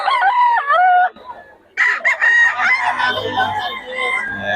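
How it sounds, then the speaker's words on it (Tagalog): Stag roosters crowing at a Bocaue market, loud and close, with several overlapping cock-a-doodle-doo calls and clucking from nearby fowl, under faint background chatter. "Mga stag yung dala-dala ni Boss Perry mga idol"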